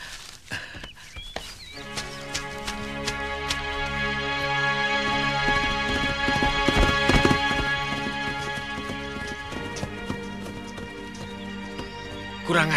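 Horse hooves clip-clopping at a steady pace during a ride, heard under a swelling musical score with a few sharp knocks at the start.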